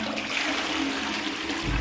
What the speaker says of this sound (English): let's flush the dunny.